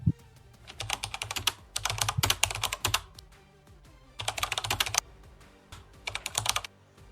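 Typing on a computer keyboard for a PC software search, with bursts of rapid clattering keystrokes separated by short pauses, close and clear with no talking.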